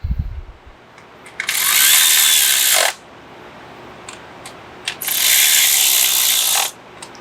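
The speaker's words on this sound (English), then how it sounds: "And we're going to take our 8mm socket." Ratchet with an 8mm socket tightens the coil pack bolts on a 2021 Ford Bronco 2.3L, two rapid clicking bursts, each about two seconds long, close and loud with pauses between.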